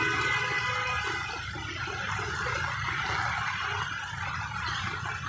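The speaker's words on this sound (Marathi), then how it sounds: "हे बघा गटारातलं पाणी बघा" Steady rushing water flows continuously through a street gutter in Navi Mumbai, a broad wash of sound like a drain running full, with no voices over it.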